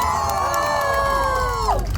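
A live show audience cheers and whoops as one steady, loud roar of crowd noise, with shrill voices rising above it and no single speaker standing out.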